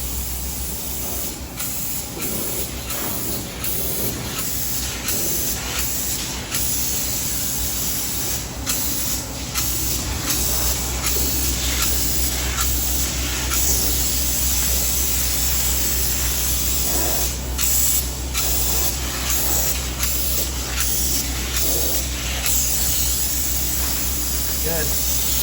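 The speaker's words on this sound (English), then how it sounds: "They're getting it sprayed in there." Spray foam insulation being applied inside a house by an insulation crew, a steady loud hiss of spraying running almost without break, with a constant low machine drone beneath and some faint talk.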